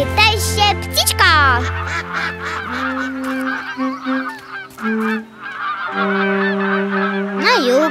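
Cartoon flightless, grain-eating bird honking like a goose, loud repeated honks and squawks over a bright cartoon music bed, with brief chirpy vocal sounds near the end.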